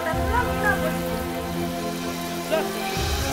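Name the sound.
rain falling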